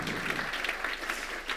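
An audience claps steadily through the whole stretch for Piet Verdonschot at a Provincie Flevoland nature lecture. The dense, continuous hall applause comes with no speech.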